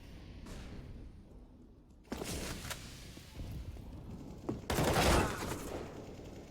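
Bursts of AK-47 fire in Counter-Strike: Global Offensive, with rapid rattling volleys starting around two seconds in and a louder, denser burst near the end over steady game ambience.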